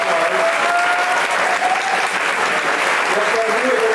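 Steady, loud clapping fills a conference hall on running injuries as the audience applauds the organizing team, with faint voices and a tonal hum underneath.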